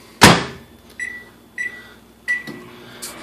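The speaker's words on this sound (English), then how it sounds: "we're going to go ahead and throw this in the microwave for about 15 seconds" A microwave oven is started to warm a smoothie: a sharp door clunk, then three short electronic keypad beeps spaced about half a second apart, all close by in a quiet room.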